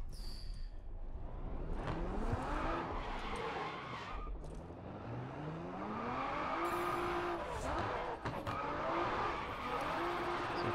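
A car spins out in the racing game Grid Autosport, with its engine note rising and falling and tires squealing and skidding in long sweeping tones, loud and continuous, with no talk.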